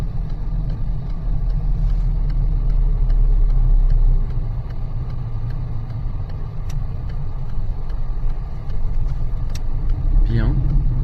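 Driving-school car pulling out of a parking lot in Reims, a steady close engine rumble and road noise throughout, with a brief higher whine near the end.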